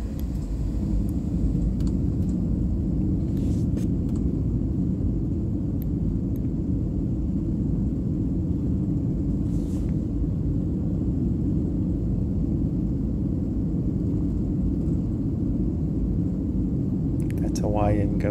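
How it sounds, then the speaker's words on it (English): Cabin of a Delta airliner on its takeoff roll from LAX bound for SFO, heard as a loud, steady low rumble of engines and runway noise that fills the whole stretch, with faint clicks above it. "And now it's time for the takeoff roll."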